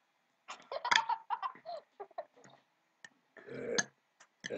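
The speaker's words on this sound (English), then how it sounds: "Belch." Close, loud belch from a person, mixed with bursts of giggling and laughter and brief vocal sounds between short pauses.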